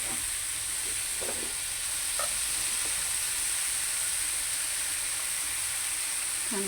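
Shredded cabbage and onions stir-frying in a pan give a constant, even hiss of sizzling oil, with only a few faint soft stirring knocks underneath and no voices.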